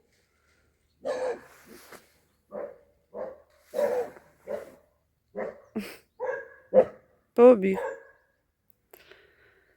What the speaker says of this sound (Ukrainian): Чиясь собака прийшла і гавкає.